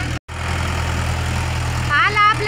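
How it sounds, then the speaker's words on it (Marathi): A farm tractor arriving with a load runs with a steady low engine drone at moderate distance, under a voice speaking near the end. "आला आपला दुसरा ट्रॅक्टर."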